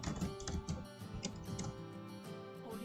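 Quick, light keystrokes tap out on a computer keyboard while text is entered in Microsoft Word, an irregular patter of soft clicks that is fairly faint and close.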